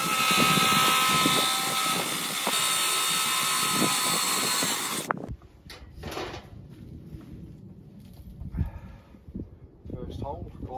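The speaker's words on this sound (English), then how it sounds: "Three different drill sizes, so I can start smaller and work my way up." A power drill whines steadily up close for about five seconds, then stops, leaving quiet clicks, handling noises and faint movement.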